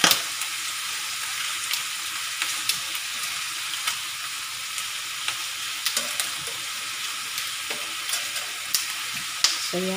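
Meat browning in a pan for Filipino humba, a loud continuous sizzle and crackle of frying with scattered stirring clicks, no talking.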